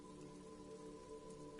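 Rain patters steadily in the video game Disco Elysium, a soft, even hiss of falling drops under a faint humming ambient tone, quiet and continuous with no talking.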